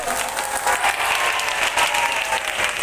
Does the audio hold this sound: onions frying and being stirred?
no